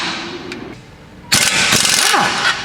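A pneumatic air gun works the axle bolts during a car CV axle replacement, a quiet hiss and then a sudden loud rattling burst of the tool running close by, no voices.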